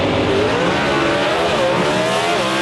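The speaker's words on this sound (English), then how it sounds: "Let that 426 cubic inch Pachyderm Hemi V8 eat its way down the right-hand side" A 426 cubic inch Pachyderm Hemi V8 drag race car roars down the strip on a solo pass at a Mopar Hemi shootout, a loud, continuous, heavily layered engine howl with shifting pitch.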